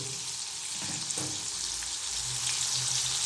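Tomato and garlic fry in a pan for a cluster bean dish, giving a steady close sizzle with a few stirring knocks, loud and continuous, with no talking.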